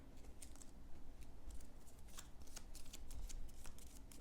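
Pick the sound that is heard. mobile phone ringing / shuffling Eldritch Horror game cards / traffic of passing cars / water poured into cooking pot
shuffling Eldritch Horror game cards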